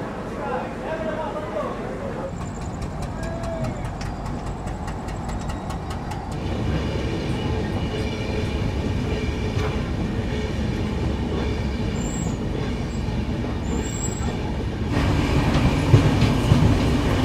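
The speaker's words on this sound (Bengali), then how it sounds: "বর্ধমানের 2 নম্বর প্ল্যাটফর্মে ট্রেন এসছে কাঞ্চনকন্যা এক্সপ্রেস" The Kanchankanya Express rumbles along platform 2 at Bardhaman station with a steady, loud roar of wheels and clattering wagons, joined by a metallic squeal and a heavier surge near the end.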